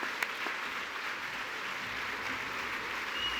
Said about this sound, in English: Keep the applause going for Suelyn